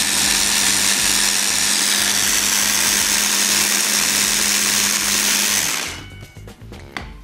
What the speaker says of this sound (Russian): Достаточно немножко поработать блендером